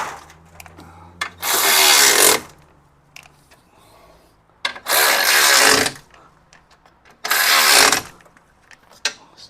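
A power tool tightens the pins on a motor mount of a 2011-2017 Audi A7 with a supercharged 3.0 V6, three loud whirring bursts about two seconds each separated by quieter workshop handling noises, no talking.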